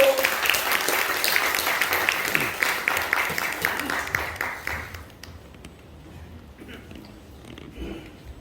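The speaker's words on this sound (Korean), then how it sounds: "우리 뜨거운 박수 환영합니다" An indoor church gathering breaks into warm, dense audience applause for a guest, the clapping steady for about five seconds before thinning out into scattered claps and room murmur.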